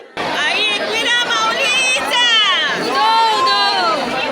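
Dense crowd chatter at Ekvira temple after Navratri, many overlapping voices forming a steady, close babble with occasional louder calls rising out of the mix.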